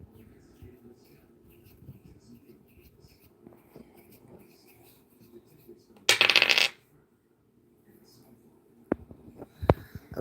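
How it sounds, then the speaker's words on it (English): Dice are rolled during a live tarot and spirit-message reading: one short, sharp rattling burst partway through, set against a quiet room with faint low background noise and a few soft knocks near the end. "Roll the dice."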